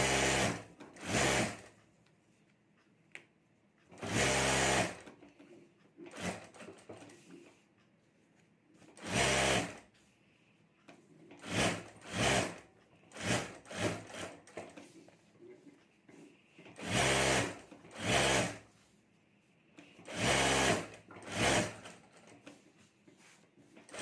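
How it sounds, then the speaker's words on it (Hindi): A sewing machine stitches around the edges of a homemade sling bag, its loud close bursts of rapid stitching separated by pauses, with a faint voice audible now and then. "तो यहाँ ऊपर मैं चारों तरफ सिलाई कर देता हूँ।"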